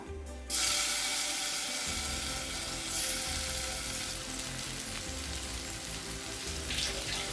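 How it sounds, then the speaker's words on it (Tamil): After a brief quiet moment, a loud, close sizzle of paneer frying in oil in a pan starts and keeps crackling steadily. "இப்போ இதை பொரிக்க ஆரம்பிச்சிடலாம்."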